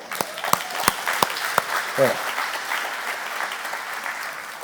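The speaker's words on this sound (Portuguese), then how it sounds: "Vamos aplaudir." Church congregation applauding during a celebration service, beginning with a few sharp distinct claps that quickly build into a steady mass of clapping with faint voices mixed in.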